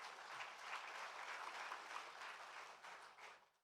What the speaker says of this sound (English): Let's clap for ourselves for being here